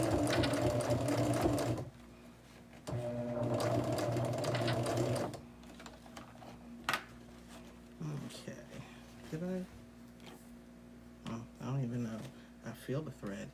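A sewing machine top stitching around a quilted bag runs in two steady close bursts, then stops while a person talks over quieter handling noise.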